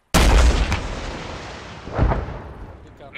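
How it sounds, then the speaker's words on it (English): Rocket launch in the military shooter game Arma III, a sudden loud booming blast with a long rumbling tail and a second thud about two seconds later, with voices in the background. "Rocket."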